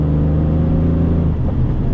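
A 1997 Porsche 911 Turbo S (993) engine, mounted behind the seats, drones steadily while accelerating with a low, continuous hum and a slight rise in pitch, heard from inside the car with no talking.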